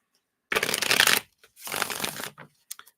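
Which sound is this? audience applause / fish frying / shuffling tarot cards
shuffling tarot cards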